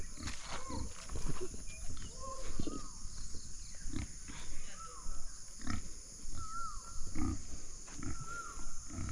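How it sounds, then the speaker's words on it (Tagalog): A pig being fed on a farm gives repeated grunts and snorts up close, mixed with scattered bird chirps and rustling across a steady outdoor background. "Papakain po ng baboy ni kuya."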